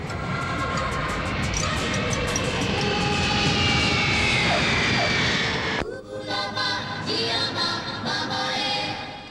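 An airplane flying in a film scene, a loud sustained engine roar with whining tones that shifts abruptly partway through, continuing with a changed, slightly quieter drone, with no speech.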